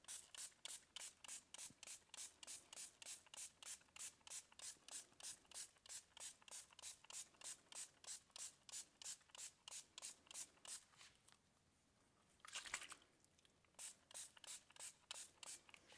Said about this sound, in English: Let's give it some good spritz.